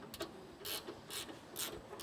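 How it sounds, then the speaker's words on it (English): Quick, soft ratcheting clicks from a ratcheting wrench snugging bolts on the push bar during a Ford Mustang GT supercharger kit install, faint, close and sounding alone. "Again, I'm going to use the ratcheting wrench."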